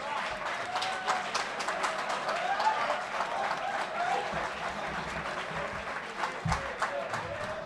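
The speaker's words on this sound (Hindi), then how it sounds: "भरपूर तालियों में जनाब जहांगीर" Audience applause at a mushaira at GC University Faisalabad, with sustained dense clapping from a crowd, fairly loud and even throughout.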